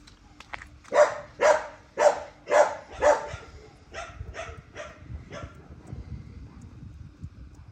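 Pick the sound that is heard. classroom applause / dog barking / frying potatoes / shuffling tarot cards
dog barking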